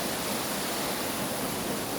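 Steady, even rush of brook water flowing over rocks in woodland, a constant broadband wash with no voices, fairly quiet and close.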